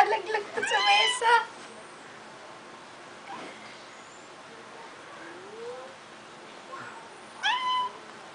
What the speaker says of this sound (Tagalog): Babae talaga pag mag-meow.